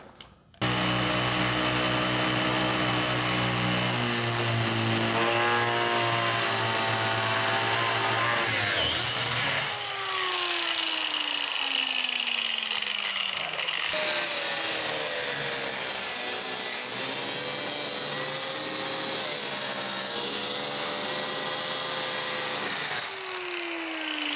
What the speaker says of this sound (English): I've got like 1 inch of the metal to get through, and then I can use the jigsaw.